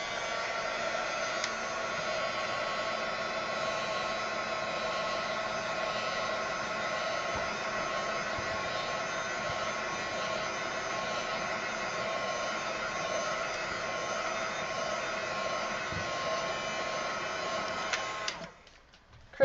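A hair dryer drying a mixed media journal page made with PanPastels, a steady whirring hum running unbroken for many seconds before cutting off abruptly at the end.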